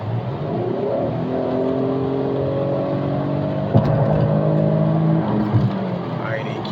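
An Infiniti Q70L engine fitted with a K&N drop-in air intake filter revving up through its range, rising and falling engine tones heard from inside the car with steady road noise and someone talking over it.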